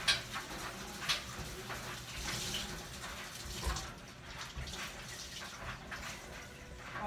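Water runs from a kitchen sink tap in a continuous splashing stream while a cloth is rinsed of food particles, with soft shifting splashes and a few brief knocks.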